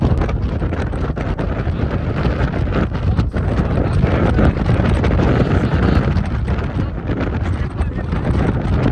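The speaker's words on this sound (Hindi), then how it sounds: "इतनी तेज हवा चल रही है" Strong wind on a snowy mountain ski slope in Scotland buffets the microphone nonstop with a heavy, roaring rumble that stays loud and steady throughout.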